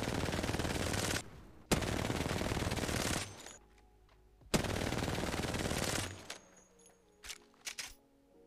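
Loud bursts of automatic gunfire from a gun in a first-person shooter video game, two long sustained volleys with a sharp crack between them, followed by quieter clicks and game sounds.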